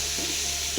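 Tomatoes sizzle steadily in a hot frying pan while spicy khichdi cooks, a continuous loud frying hiss with soft stirring scrapes underneath.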